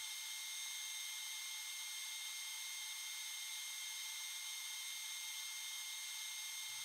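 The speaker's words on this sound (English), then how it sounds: "Then I'll get some readings while running my dust collector." Workshop dust collector running steadily, a constant broadband whoosh and hum with no change in level throughout, moderately loud and alone.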